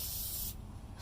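Krylon Crystal Clear acrylic coating hissing from an aerosol spray can over an acrylic pour painting, a loud steady spray for about half a second before it cuts off, leaving quieter background.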